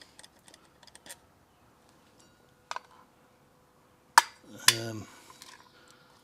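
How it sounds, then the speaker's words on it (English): Small metal carburetor screws from a 1954 Packard Clipper Deluxe set down on a tray in a garage, giving a few sharp clinks and taps spaced apart, with faint handling noise in between. "Lay them down beside each other on my tray"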